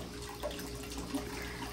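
Hot spring water flows gently into a private onsen bath at a Niseko ryokan, a soft, steady trickle and splash heard up close and faint, with no voices.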